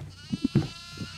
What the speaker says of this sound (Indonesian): Kambing setan.